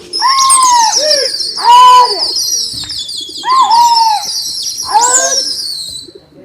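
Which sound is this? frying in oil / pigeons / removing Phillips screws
pigeons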